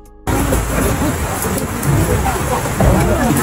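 Steady rain pours outdoors in a broad, constant hiss that sets in abruptly after a brief quiet start, with faint voices mixed beneath.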